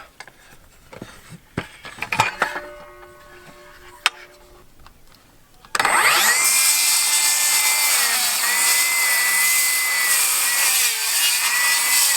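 Battery-powered saw cutting wood while building a farm retaining wall: after several seconds of scattered knocks and handling clatter, the saw roars in abruptly and runs loud and steady until the end.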